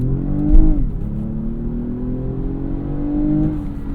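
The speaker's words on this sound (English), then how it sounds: "And this exhaust and this engine sounds amazing." A 2025 Lexus ES 350 F Sport with a front-wheel-drive V6 revs hard during a launch from standstill, the engine note climbing steadily with a brief shift dip, loud and close through the exhaust.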